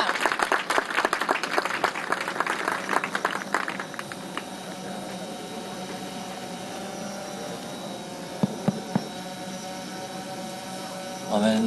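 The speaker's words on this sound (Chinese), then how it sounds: "掌声欢迎" Outdoor crowd applause at the opening ceremony of a high school baseball tournament, dense clapping for about four seconds that then fades into a hum of open-air ambience with a few stray claps.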